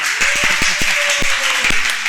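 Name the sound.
audience applause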